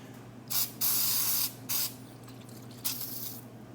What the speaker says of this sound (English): Get some brake cleaner.